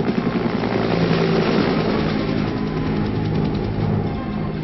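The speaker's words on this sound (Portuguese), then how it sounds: "As alças foram desamarradas e presas a um helicóptero." A helicopter lifting a 680-kilogram disc, heard as a loud, steady rotor thump and engine drone with a rapid pulsing beat, close and continuous throughout.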